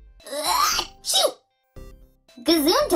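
A child's sneeze bursts out during a spelling lesson, a short sharp explosive burst followed by a second gasping one, with talk before and after in a quiet room.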